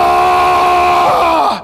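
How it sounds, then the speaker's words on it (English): A man lets out a loud, sustained strained scream while lifting weights at a gym, a single drawn-out yell that pitches down and cuts off at the end. "no more screaming or you're out of here"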